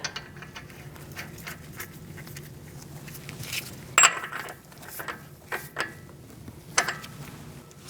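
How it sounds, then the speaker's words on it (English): An axle nut is fitted onto a 2002-2006 Toyota Camry front brake assembly, giving faint metallic clicks, a few small clanks and ratcheting taps scattered over several seconds in a quiet garage. "now we're going to put our axle nut on"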